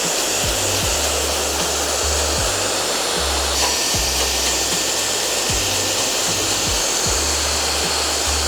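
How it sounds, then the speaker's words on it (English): A blow dryer fitted with a Denman brush attachment runs on high power and low heat. It gives a loud, close, continuous roar, with regular soft brushing thumps through the hair. "Attach my attachment to my blow dryer."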